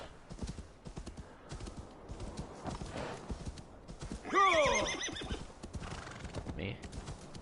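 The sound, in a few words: horse neighing and hooves in Assassin's Creed Valhalla video game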